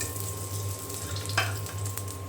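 Two eggs fry in a hot pan, giving a soft continuous sizzle up close with a faint electrical hum beneath and one brief louder crackle midway.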